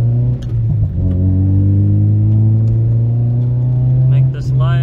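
An Acura RSX engine hums steadily while driving on a new StopTech brake upgrade, a close, constant drone with a slight rise in pitch, heard from inside the car.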